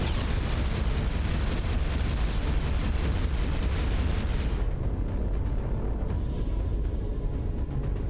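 A missile explosion in the space game Starcom: Unknown Space roars as a loud, dense blast that rumbles heavily before cutting off abruptly into a lower, duller rumble.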